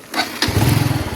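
A Honda Wave CXL motorcycle engine, misfiring at high rpm, revs briefly during a road test, a short throttle blip rising into a steady buzzing putter.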